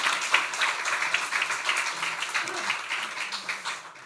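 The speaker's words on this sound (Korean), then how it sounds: "자, 우리 성가대 경례 박수만 하겠습니다." Church congregation clapping for the choir during a Sunday worship service, a sustained round of many hands with a loose rhythm, moderately loud and fading slightly toward the end.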